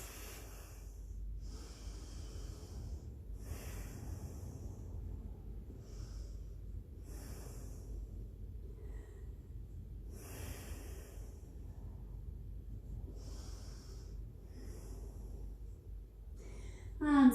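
Slow, deep breaths drawn in and let out through the nose during a wide child's pose in a yogalates class, repeating at a steady rhythm of soft, close breathy hisses over a quiet room hum.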